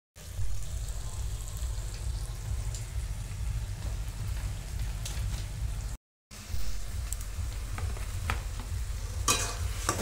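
Taro greens fry and get stirred in a pan on a village stove, giving a steady close sizzle with scraping stirs and a low rumble underneath, broken by a short silent gap midway.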